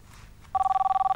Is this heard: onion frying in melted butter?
no